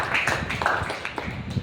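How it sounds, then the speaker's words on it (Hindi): Worshippers in a church service clap together, a quick patter of scattered hand claps and taps, moderately loud and fairly close, lasting just over a second. "तालियां होनी चाहिए इस बात पर।"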